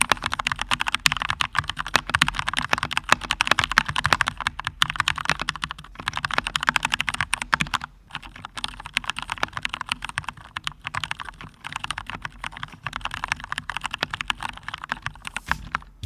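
Steady, rapid typing on a Keychron K10 full-size mechanical keyboard with brown switches, soft clacks in a continuous stream, close up, with one brief pause midway.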